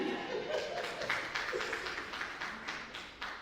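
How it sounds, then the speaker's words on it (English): An audience claps hands at a book launch, a steady stream of overlapping claps at moderate volume that lasts throughout, with a faint voice underneath. "Clap hands for me."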